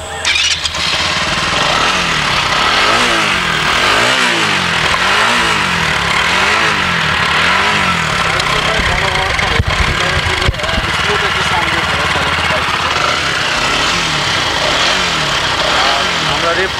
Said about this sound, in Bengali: আপনাদেরকে বাইকটার ইঞ্জিন শব্দ শোনাচ্ছি সেলফি স্টার্ট দিয়ে